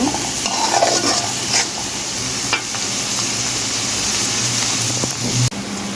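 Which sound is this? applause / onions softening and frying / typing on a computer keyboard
onions softening and frying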